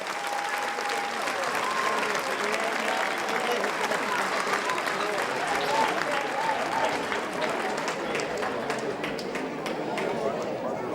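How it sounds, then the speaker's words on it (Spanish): Theatre audience giving a warm round of applause for the cast of a live show, sustained dense clapping filling the hall at a steady level, with faint murmuring mixed in. "Un fort aplaudiment"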